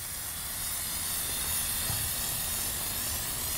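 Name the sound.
aerosol spray can spraying fibers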